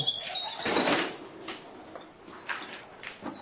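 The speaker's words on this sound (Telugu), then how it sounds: "నెమలి పావురాల్లో నెమలి జాతి. ఇది ఫ్యాంటైల్ అంటారు." Fantail pigeons flap their wings in a burst of close, fluttering beats, with soft cooing and a few chirps in the background; no talking.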